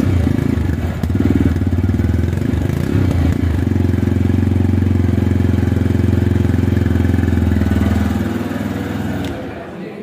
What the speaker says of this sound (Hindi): तो पहले आपको रेडर 125 का एग्जॉस्ट नोट कराते हैं